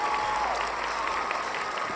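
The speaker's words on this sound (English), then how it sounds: "applause, cheers." Brief burst of crowd applause and cheering, a dense, steady wash of many hands clapping with a few whoops, loud and continuous throughout.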